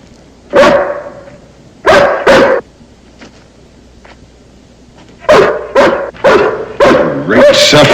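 A hound dog barks in loud, close bursts: a single bark, then a pair, a pause, and a rapid run of barks near the end, with a faint rural outdoor hum beneath.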